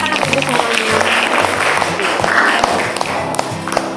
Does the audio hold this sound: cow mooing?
no